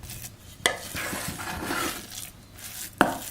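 Wheat arepa dough mixed with goat tallow is mushed around in a bowl: a continuous soft, squelching stir with two sharp knocks against the bowl, close and fairly loud.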